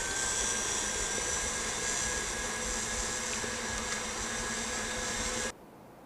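Stand mixer running at maximum speed for butter in a lavender and Sicilian lemon cake batter, a loud steady high-pitched motor whine and buzz that holds evenly and then stops abruptly near the end.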